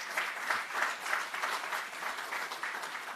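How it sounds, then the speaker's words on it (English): Steady crowd applause at a training awards ceremony for educators, dense and continuous clapping from an audience filling the room at even loudness throughout. "Give yourselves a round of applause."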